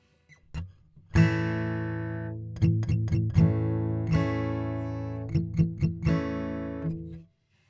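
A major chord on guitar, several strums in a loose rhythm with short choppy strokes between ringing ones, played close and clear, then stopping cleanly.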